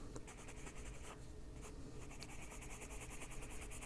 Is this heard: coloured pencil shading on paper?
yes